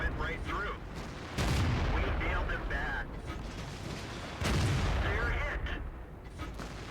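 Two heavy tank cannon blasts in World of Tanks, T69 tier 8 medium tank in battle, each a sharp boom with a rumbling tail, separated by a few seconds of engine and battlefield noise.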